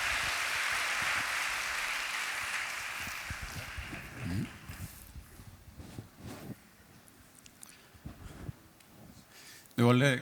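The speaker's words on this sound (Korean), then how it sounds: "박수 한번 부탁드립니다." Congregation applause at a Korean church youth worship service, a soft clapping wash that fades out over the first few seconds, followed by quieter room sounds and scattered bumps.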